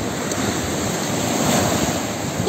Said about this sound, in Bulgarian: Идват огромни вълни към теб!